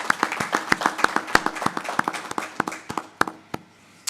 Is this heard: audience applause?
yes